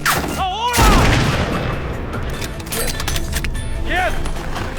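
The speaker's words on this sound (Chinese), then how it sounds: "这时小帅拿出了狙击步枪，虽然无数的子弹打在他的面前，但他却纹丝不动" Gunfire from a war film battle scene set in extreme cold, with loud booms and bursts of shots early on, then continuous dense rumble and scattered impacts under a background voice.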